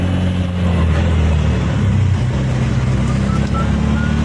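Road traffic stalled in a jam, a loud continuous rumble of car and truck engines idling and creeping nearby, with a steady low drone and faint scattered higher tones.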